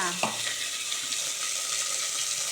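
Masala sizzles steadily in a pan for Mangalore cucumber sambar, with a dense, continuous frying hiss and a brief clatter of stirring near the start.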